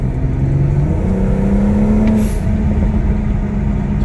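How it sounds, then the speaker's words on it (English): Stock-tune BMW in sport mode under partial throttle: engine drone rises with acceleration, then a short, crisp hiss from the turbo blow-off valve bursts out near the end. "It's a pretty crisp blow-off,"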